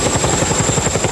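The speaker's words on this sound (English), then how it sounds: "Today, U.S. Army helicopters broke through a supply bottleneck, landing every few minutes in devastated South Florida." U.S. Army helicopters landing with supplies in storm-devastated South Florida, a steady close rotor thump with rhythmic blade chop and a high whine above it, heard alone.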